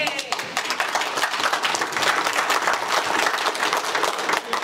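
Audience applause at a Michigan Republican Party meeting, a dense, steady round of clapping from a crowd with voices mixed in, sustained evenly throughout.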